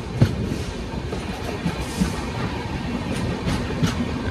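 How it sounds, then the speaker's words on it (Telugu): A train hauled by a WDG6 locomotive rolls through Chikjajur junction with a steady, close rumble and faint periodic wheel clicks over the rails, continuous and without speech. "my favourite WDG6 locomotive"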